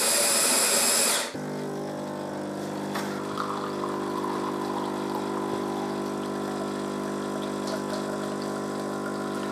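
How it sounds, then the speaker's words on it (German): A Melitta Caffeo Solo E950 bean-to-cup coffee machine whirs loudly as it grinds beans, then settles into a steady lower mechanical hum and drone, close and continuous with no talking. "Die Bohnen wurden jetzt gemahlen, werden dann über die Brühgruppe gepresst"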